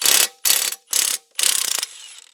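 A ratchet wrench loosens the blade bolt on a Troy-Bilt lawn mower, making four quick, close bursts of ratcheting clicks with short pauses between them.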